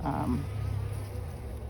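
Honey bees buzz in a steady, continuous drone close by, with a brief brighter swell near the start and no talking.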